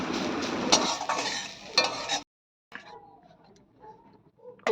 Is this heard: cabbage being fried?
yes